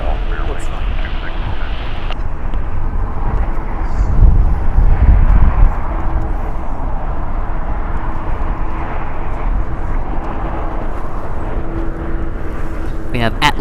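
An executive jet taxis at LAX airport, heard as a steady broad engine roar with a brief swell midway, while a person talks over it almost throughout.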